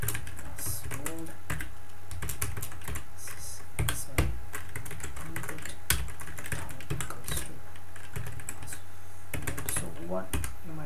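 Fingers type HTML code on a computer keyboard in quick irregular clusters of close, crisp key clicks, with brief pauses between bursts.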